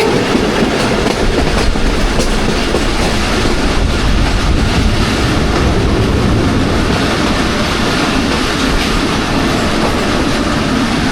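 A Jaffar Express passenger train rolls slowly past Fakirabad railway station, a steady, loud rumble of wheels and clattering carriages that fills the whole stretch without pause or voices.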